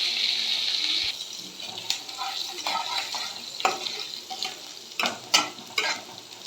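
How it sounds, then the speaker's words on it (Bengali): Grated ginger and green chillies frying in tempering oil with whole cumin for restaurant-style paneer masala: a bright hiss that eases after the first second, followed by irregular scraping stirs over a quieter sizzle. "এই ফোড়নের তেলের মধ্যেই আমি এই আদাটা যেটা আমি গ্রেট করে রেখেছিলাম আর কাঁচা লঙ্কা,"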